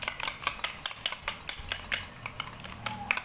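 A utensil stirs an egg and sausage mixture with carrots in a bowl, giving rapid rhythmic clinks and scrapes, soft and close, with no talking.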